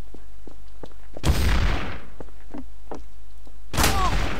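Two sharp, loud bursts of gunfire in Garry's Mod Trouble in Terrorist Town, each a heavy boom with a decaying tail, separated by a few seconds of quieter clicks and footsteps.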